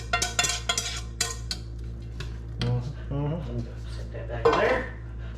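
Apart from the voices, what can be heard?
ground beef and onions poured into pan and mixed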